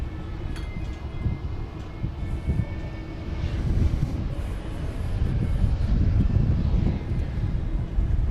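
Airplane engines roar at DFW Airport at night, a distant, broad jet rumble that swells steadily louder through the second half with no talk over it.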